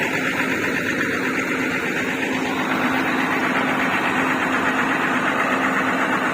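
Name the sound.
white Alfarruq bus engine idling before reversing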